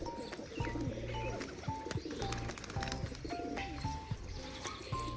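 Pigeons coo in soft repeated calls while drinking water, the coos faint and layered over light background rustling and taps.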